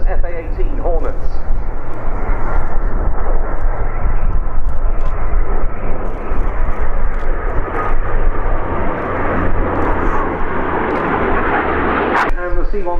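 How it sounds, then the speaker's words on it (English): A C-130 transport aircraft comes in to land at an airshow, a loud, steady broadband engine roar that fills the whole stretch without letup, with an announcer's voice running underneath. "C-130, playing the part of the unknown intruder, comes into land."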